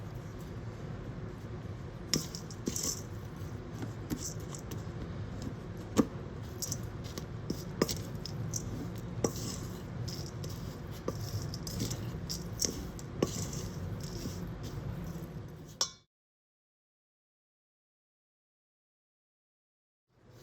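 Shampoo bar ingredients and citric acid being stirred together by hand, with soft scraping, squishing and pattering taps for about sixteen seconds, then silence.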